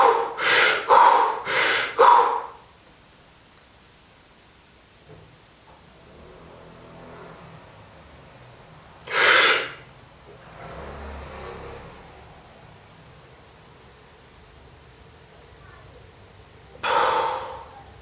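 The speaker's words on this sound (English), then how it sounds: "I'll start from the last 2 breaths again. I'll hold it for a short amount of time and then I'll do the breath in" Wim Hof style breathing: a quick run of five forceful, close breaths, then silence during a hold, one sharp deep inhale near the middle, faint low rumble, and another strong breath near the end.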